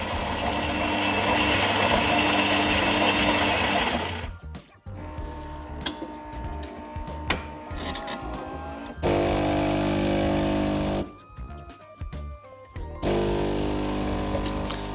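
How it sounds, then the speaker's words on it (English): A Philips 5400 LatteGo automatic espresso machine grinds coffee beans a second time for an extra-strong brew, a steady mechanical whir that runs in loud bursts separated by brief pauses. "So it's actually doing a second grind here."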